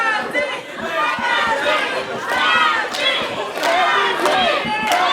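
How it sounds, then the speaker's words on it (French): Wrestling arena crowd at a Royal Rumble-style event roaring, shouting and cheering continuously at close range, with many overlapping voices and sharp yells rising and falling throughout. "a les encouragements de la foule"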